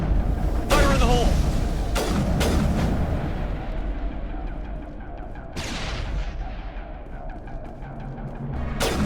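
Grenade blast and gunfire in the sci-fi shooter Mass Effect on an asteroid, with loud sharp booms and bursts of weapon fire rumbling under voices.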